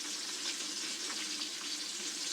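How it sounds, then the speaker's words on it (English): Filipino escabeche frying in hot oil gives a dense, continuous hiss and crackle, steady and close, with no voices. "I hope you can hear the frying."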